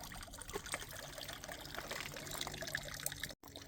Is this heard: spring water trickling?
yes